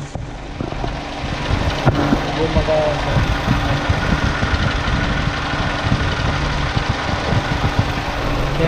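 A car's radiator fan whirs steadily beside a hot idling engine with a low rumbling hum, loud and close throughout, with someone speaking briefly over it.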